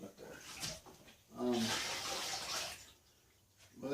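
Water runs into quart mason jars for a malt vinegar brewing batch, a broad rushing pour that swells for a couple of seconds and then eases, with a voice talking near the start and again at the end.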